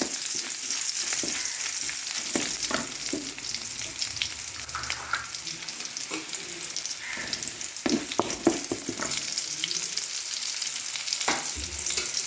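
Ginger and garlic sizzle steadily in oil in a pan with occasional scraping and stirring clatter, close and continuous, no talking.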